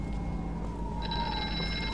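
A payphone rings inside the horror game Here They Lie, a steady electronic ring that brightens partway through, set over a constant low ambient drone.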